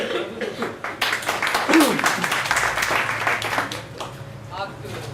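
An audience at a party debate meeting in Busan breaks into scattered clapping that swells into a burst of applause mixed with some laughter, while people talk over it.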